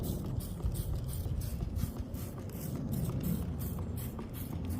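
Garden hose on its jet setting sprays water onto the grimy engine of a Toro Recycler rear-wheel-drive lawn mower, a steady close hiss and splatter with rough spattering texture throughout, no talking.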